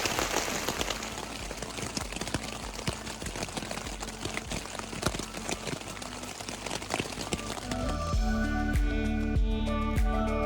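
Rain drips steadily from the trees along the Appalachian Trail in the Great Smoky Mountains after a downpour, a dense patter of close drops on leaves and ground, louder and heavier toward the end.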